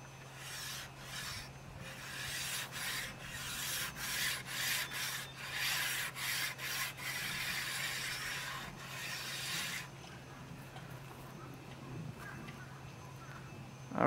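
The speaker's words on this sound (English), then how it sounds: "I'm going to condition it by rubbing the side of a piece of chalk down it to condition it" Side of a chalk stick rubbed back and forth over chalkboard paint, a close, gritty scraping in rhythmic strokes for about ten seconds before it falls to near silence.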